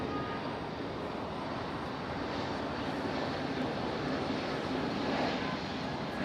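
A Frontier airliner on its takeoff roll at Raleigh-Durham International, a steady broadband engine roar that stays even and fairly distant across the whole stretch, with no talk over it.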